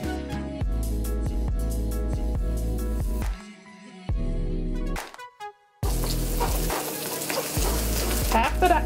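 Eggs hit a hot wok for Chinese-style crab fried rice, a loud close sizzle rising after a stretch of clattering and background music, with short gaps and bursts of spattering oil.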